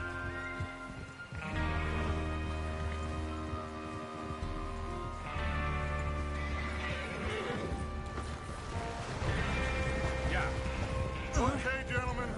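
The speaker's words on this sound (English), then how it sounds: "Get your horses ready." In the Red Dead Redemption video game, horses whinny and hooves clop beneath a swelling orchestral score, with voices talking over the scene and a sharp neigh rising near the end.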